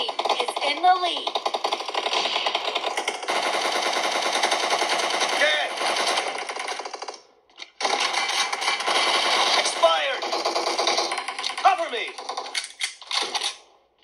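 Rapid gunfire in the mobile shooter PUBG Mobile, running as near-continuous automatic bursts with brief pauses, under a voice talking over the game.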